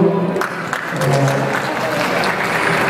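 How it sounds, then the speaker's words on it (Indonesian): An audience applauds during a song cover contest winners' announcement, with a dense, steady wash of clapping from many hands at moderate volume and crowd murmur beneath it. "tepuk tangan dulu"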